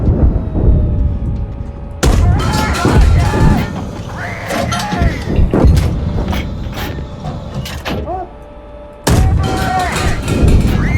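A tank gun in a GHPC combat game fires heavy booming shots at infantry, several sharp loud blasts with mechanical clatter and rumbling between them, close and dominant.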